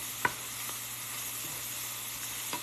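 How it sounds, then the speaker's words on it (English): Vegetables sautéing in a pan give a steady broadband sizzle throughout, with a couple of brief utensil clicks near the start and the end, close and fairly quiet with no talking. "now we're just gonna saute this a little more"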